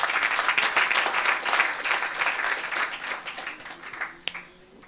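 A church congregation at a healing meeting applauds loudly and together, a dense wash of clapping that thins out near the end with a few last claps.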